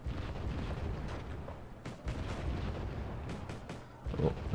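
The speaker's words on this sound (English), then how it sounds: "it's taking big hits from that autocannon" Autocannon rounds hitting a vehicle in a war video game, heard as faint, muffled repeated thuds and booms over a low rumble.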